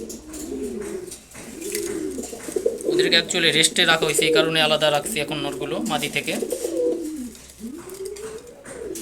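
Male Giribaz pigeons kept apart from the females in a loft give repeated, close, throaty coos that swell and overlap, while someone talks over them.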